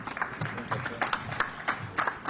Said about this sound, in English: Round of applause for Joet Gonzalez.